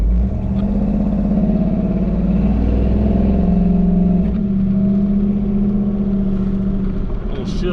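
A Chevy delivery truck with an LS swap and freshly serviced transmission drives along, its engine rumbling steadily and loudly up close, with a brief break around the shift into second gear before the drone continues.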